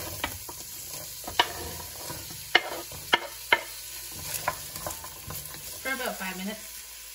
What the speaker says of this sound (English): I'm gonna saute the onion and carrots.